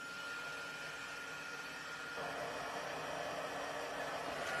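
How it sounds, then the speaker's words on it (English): A heat gun blows with a steady, airy hairdryer-like whoosh and faint motor whine, continuous throughout and fairly quiet. "I am going to take my heat gun, and it's going to sound like a hairdryer"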